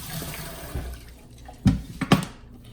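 Peeled potatoes rinsed under a kitchen tap, with running water and a few sharp splashes and knocks near the end, close and moderately loud, no speech.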